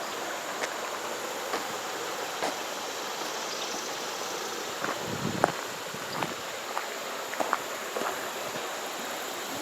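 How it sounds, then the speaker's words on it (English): A creek flows steadily in an outdoor spot beside a church and bridge, giving a constant broadband rush, with a few faint taps and footsteps scattered over it. "this is the creek"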